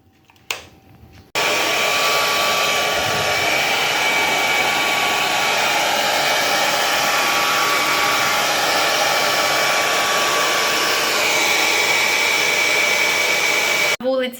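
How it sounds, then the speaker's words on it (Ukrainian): A hair dryer drying shoes blows steadily and loudly for most of the clip, a constant whooshing whine that starts abruptly after a brief quiet moment and cuts off near the end. "беру я фен і феном підсушую взуття своєму хлопчику"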